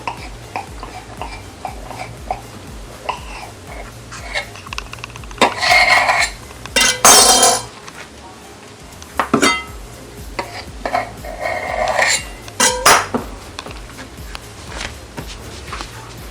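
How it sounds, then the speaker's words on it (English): A knife slicing rolled circles of samosa dough in half on a board, giving a few scattered clusters of short, close tapping and scraping cuts against a quiet kitchen background, with no talking. "After that, you take your knife and then you cut them into half."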